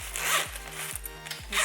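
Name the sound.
zipper on HEYS luggage being pulled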